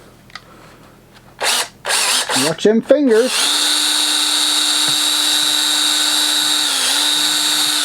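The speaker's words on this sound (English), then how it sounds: "we got a little hole drilled in the tennis ball" A power drill bores a hole into a tennis ball, a loud steady high whine that starts after a few short bursts and revving pulses and then runs continuously, with someone speaking briefly near the start.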